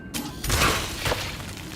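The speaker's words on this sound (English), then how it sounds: "Not very exciting explosion, but yeah, they're acid pus." In the video game Cronos: The New Dawn, acid pus blobs burst in a muffled explosion, a dull thumping boom with a brief shattering crackle and a second smaller thud before fading.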